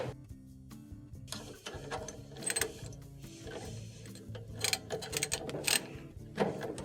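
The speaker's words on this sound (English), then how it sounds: "Let's go ahead and put our ratchet back in here." A ratchet tightens the blower wheel inside a Maytag dryer during repair, giving rapid metallic clicking and ticking bursts, close and fairly quiet, with a low hum underneath.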